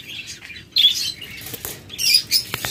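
Pet lovebirds in a cage at a bird seller in Bangladesh give sharp, high squawks and chirps in several bursts, mixed with a brief flutter of wings.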